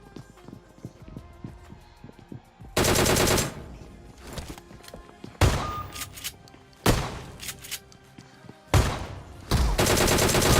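Several loud bursts of automatic gunfire from PUBG Mobile on the Erangel map, coming in about four separate volleys with quieter game ambience and small thuds in between.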